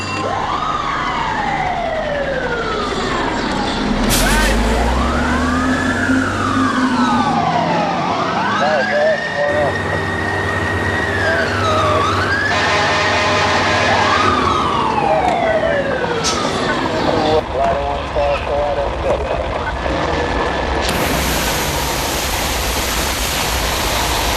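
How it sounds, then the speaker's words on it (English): Fire station alarm and fire engine sirens in a film about 9/11: loud, overlapping wailing sirens sweeping up and down, joined by alarm tones and rumbling engines, continuous throughout with a busy background. "When the alarm goes off, they'll come and get you."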